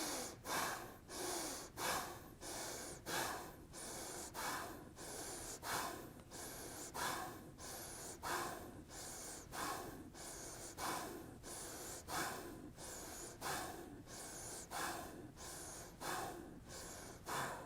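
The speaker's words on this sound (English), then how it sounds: "we're going to do 30 seconds of Bhastrika" Rapid, forceful Bhastrika breathing during a guided meditation: steady rhythmic bursts of loud sniffing inhales and exhales about twice a second, close and continuous with no talk.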